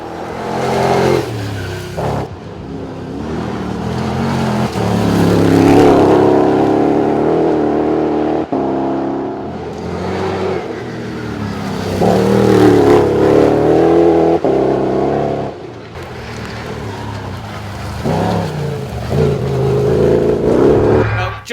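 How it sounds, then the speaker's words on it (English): A cross country race car climbs Pikes Peak, its engine loud and close, revving and surging through gear changes and bends with brief lifts between bursts, with no talk over it. "I'll let you just enjoy the noise this vehicle makes as he negotiates Pikes Peak."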